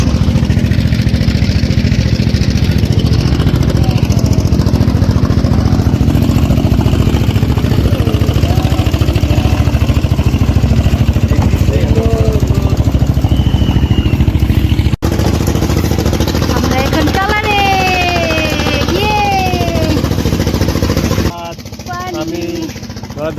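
A trawler boat engine runs on the river trip to Sada Pathor in Sylhet, a loud, steady mechanical drone that continues throughout and drops off slightly near the end, with faint voices underneath.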